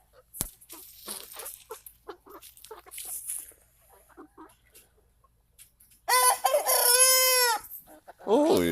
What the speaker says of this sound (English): That's one of my roosters.